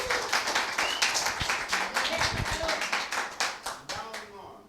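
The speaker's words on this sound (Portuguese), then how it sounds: "Palmas para a Edneia" Audience claps to welcome the next presenter at a thesis presentation session, a brisk burst of many hands clapping close and lively, tapering off toward the end with faint voices.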